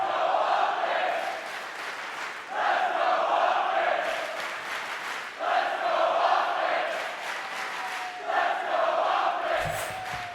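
A live Call of Duty esports crowd at the Major II, OpTic Texas versus London Royal Ravens, cheers loudly in repeated surging waves, each roar swelling and fading across a busy arena.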